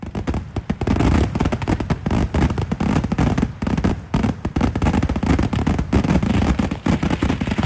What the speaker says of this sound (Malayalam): പകൽപൂരത്തിന് ശേഷം നടന്ന വെടിക്കെട്ട് ഏകദേശം 10 മിനിറ്റോളം നീണ്ടുനിന്നു.